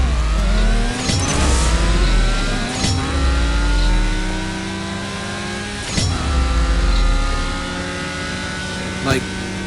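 A Nissan GT-R in CSR Racing 2 revs hard and races, its engine note climbing in repeated sweeps with sharp drops at each gear shift, loud and continuous, while a person talks over it.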